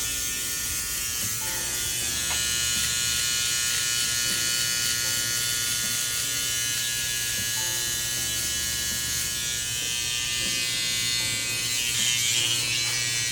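Electric hair clippers buzzing continuously and close during a men's barbershop haircut, a steady loud hum with slight changes as they cut through hair, no speech.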